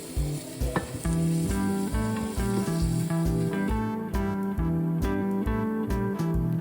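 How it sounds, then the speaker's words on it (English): Onions sautéing in oil in a pan for keto lemon ginger chicken hiss steadily in the foreground, accompanied by a rhythmic pulsing tonal pattern, with no voices. "Let's get the onions in the pan and get them ready to saute"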